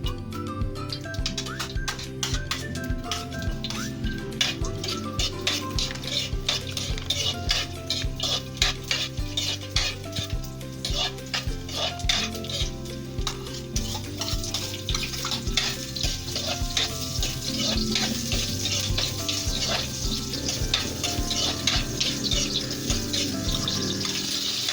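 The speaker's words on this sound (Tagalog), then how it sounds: "I heat a small amount of cooking oil over a medium heat and saute the garlic, onion," Garlic, onion and tomato sauteing in a little oil over medium heat give a continuous close sizzle, broken by frequent clinks and scrapes of a utensil against the pan and no talking.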